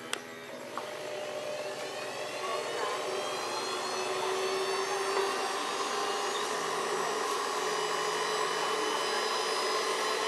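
A small water pump engine running on a charcoal gasifier drones steadily with a whooshing, airy hum that builds slightly after a sharp click at the start, continuous and close.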